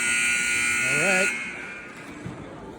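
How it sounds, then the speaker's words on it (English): A loud, sustained electronic buzzer blares in an ice hockey arena to end a period, holding for over a second before cutting off, followed by crowd murmur, with a brief voice underneath. "Buzzer sounds."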